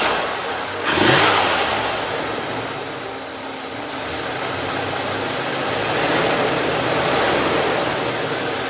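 A classic American luxury car engine revs up sharply, then holds a loud, steady roar that swells and eases over several seconds, heard close with no talking.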